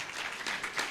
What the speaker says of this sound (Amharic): አጨብጭቡ ለጌታ ክብር።